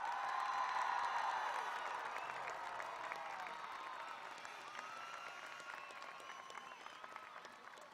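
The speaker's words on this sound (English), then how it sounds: "one more round of applause for the class of 2023" A crowd at the 2023 Dover High School graduation ceremony applauds the graduating class, with scattered cheers and whoops over steady clapping that slowly fades across the stretch, heard somewhat distant and soft.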